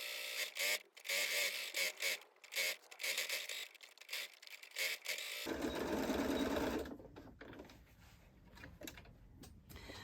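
A domestic sewing machine stitches a drawstring make-up bag, first in short stop-start bursts of rapid whirring, then one longer steady run that fades into quieter handling rustles; close and alone without talk.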